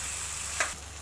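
Oats pancake batter poured into hot refined oil sizzles steadily in a pan, a brief sharper hiss flaring for a moment, close and fairly quiet with no talk.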